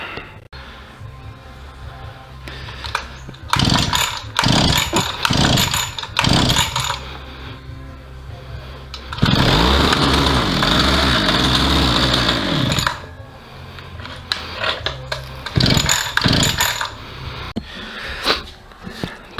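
A salvaged brush cutter with a freshly re-primed carburetor gets several sharp pull-start tugs, then its small engine catches and runs roughly for a few seconds before more ratcheting pulls and clattering.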